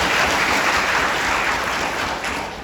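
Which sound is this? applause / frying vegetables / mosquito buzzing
applause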